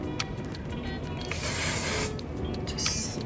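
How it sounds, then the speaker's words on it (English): Hairspray from a small purse-sized can sprayed lightly over hair for a beach-waves style, heard as two bursts of soft hiss, a longer one in the middle and a shorter one near the end, over a steady background. "lightly spray everything."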